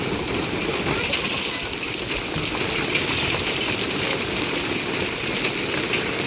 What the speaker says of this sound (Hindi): और अभी देखो और ओले पड़ रहे हैं